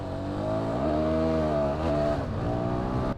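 A motorcycle engine revs steadily and loudly up close, its tone rising and falling through a few throttle blips over a few seconds, with no talk.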